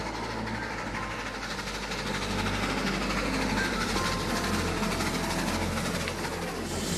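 Train rushing through a railway tunnel, a sustained low rumble and rattle of wheels and carriages that swells slightly midway and holds steady, with no voices.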